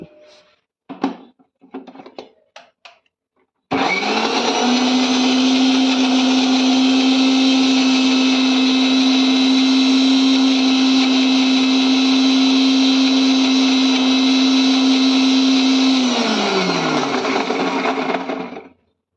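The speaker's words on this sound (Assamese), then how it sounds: "ইয়াতে অলপমান পানী দিম। এইখিনি মই এতিয়া গ্ৰাইণ্ড কৰি ল'ম।" After a few clattering knocks, an electric grinder blending lemons with their peels and a little water kicks in with a loud, steady, high whine lasting about thirteen seconds, then winds down and stops.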